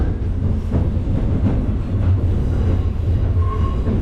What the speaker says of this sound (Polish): jadę pociągiem